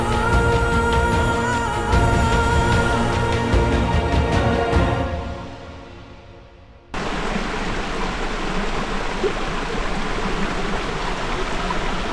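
Music fades out, then the Arroyo de las Chorreras mountain stream near Huélamo rushes steadily over travertine rapids and pools, a dense, even roar of water close by.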